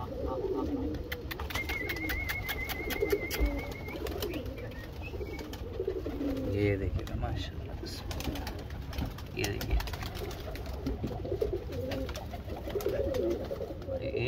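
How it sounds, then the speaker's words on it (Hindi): Pigeons coo softly in a loft in Surat, with repeated low throaty calls under someone speaking, plus an occasional light chirp and faint rustling nearby. "वहाँ देखिए भाई वो हमारा खूबसूरत वाला कबूतर इधर बैठा हुआ है"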